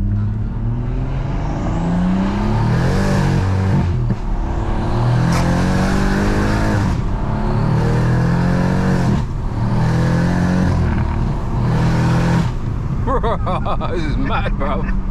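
A 550bhp BMW M140i accelerates hard. The engine roars loud and close inside the cabin, rising in pitch through several gears with brief dips at each shift, and people can be heard reacting over it.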